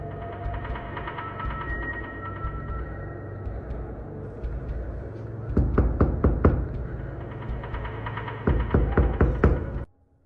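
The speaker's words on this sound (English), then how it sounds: "The knocking returned, and this time it was more aggressive." Aggressive knocking on a front door: two volleys of rapid, loud, hard knocks over a constant low rumbling background, with no voices.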